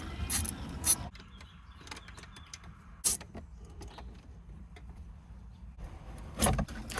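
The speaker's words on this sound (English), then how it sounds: "you can remove the 4 screws that are holding in the factory radio" Screws come out of the factory radio in a Jeep Wrangler JK, giving a few short metallic clicks and scrapes at intervals over a quiet, low background hum.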